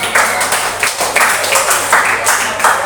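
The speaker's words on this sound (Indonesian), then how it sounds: "sudah tepuk tangan untuk kawannya sudah" A classroom of students applauding a classmate, steady overlapping claps forming a dense, fairly loud burst of applause close by that carries on evenly throughout.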